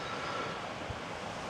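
Strong wind rushes steadily across an open farm field beside a burnt-out Fendt tractor and Krone baler, a constant low roar with no breaks and no voices.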